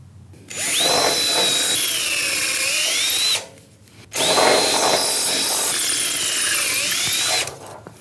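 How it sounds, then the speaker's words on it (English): Two long bursts of high-pitched power drilling into concrete, each running a few seconds with a brief quiet pause between them, close and loud. "I'm going to drill the concrete, get all that dust out"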